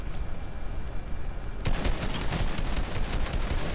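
Rapid automatic gunfire in a video game shooter breaks out suddenly after a quieter stretch, then continues as a dense, loud, sustained stream of shots.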